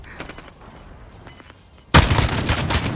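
Video game gunfight: faint quiet ticks give way to a sudden loud gunshot burst, followed by continuous close gunfire and impacts.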